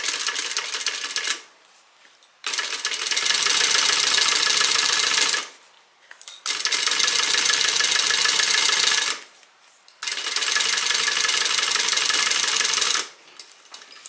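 A sewing machine runs in three long, steady bursts as it stitches a leather bag pocket, each run loud and close with short pauses between.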